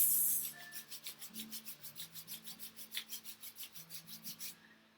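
Two palms rubbed briskly together, a close, soft rasping swish repeated in about twenty quick even strokes back and forth, alone over a faint low drone before fading out.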